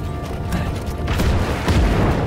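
Vehicle destroyed in Just Cause 3 gameplay, heard as a deep, rumbling explosion boom with a rolling low roar and mechanical clatter that swells and lingers over about two seconds.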